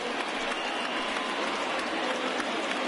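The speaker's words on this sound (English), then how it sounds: "listen to this crowd now. They are really into this" A baseball stadium crowd in MLB The Show 20 cheers and roars in a steady, dense wash of noise that holds at an even level throughout.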